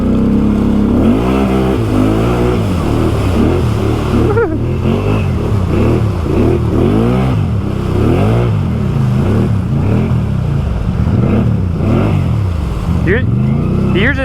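A 2020 Can-Am Outlander XMR ATV with a swapped-in 850 engine and aftermarket exhaust revving hard and repeatedly, loud and close, the engine pitch sweeping up and down in rapid throttle blips, with voices heard over it.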